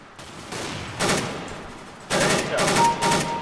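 An auto-sniper rifle fires in the CS:GO video game, sending out short, loud bursts of gunfire in separate clusters with quieter gaps between them.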